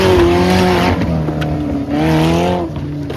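Stock-car racing at a wood-class heat in Bertrix: loud, close engine roar with shifting pitch as cars circle the track, continuous throughout with no talk.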